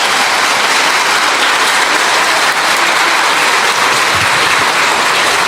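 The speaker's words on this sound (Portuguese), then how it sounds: "vamos aplaudir as crianças." A church congregation gives a loud, continuous round of applause for the children, a dense wash of clapping that stays even from start to finish with no talk over it.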